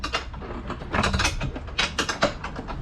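Metallic ratcheting clicks and clanks from a 15mm wrench loosening motor mount bolts on an LO206 Briggs racing kart, in close, busy bursts with no talking.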